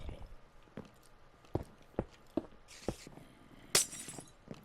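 Glass blocks broken in Minecraft, a quick series of soft percussive clicks and thuds ending in a bright crisp shatter, fairly faint and close with no talking.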